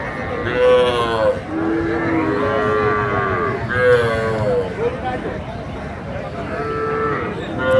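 Cattle at the Ambari cattle market in Dinajpur give several loud, drawn-out moos, one after another, close by over a murmur of crowd noise and occasional voices.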